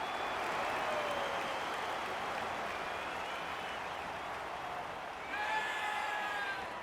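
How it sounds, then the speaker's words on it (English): Stadium crowd in the AFL 26 football video game roars and applauds in a steady, dense wash of cheering that swells again near the end, with commentary faintly underneath. "The crowd noise tells you all you need to know."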